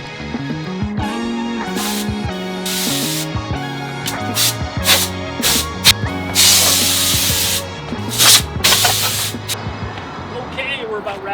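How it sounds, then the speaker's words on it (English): Power washer spraying water in a shop bay, cleaning a tiny home after a roof window install: loud bursts of broadband hissing spray that start and stop repeatedly over music-like tonal sounds, with voices present. "I've got the power washer right there."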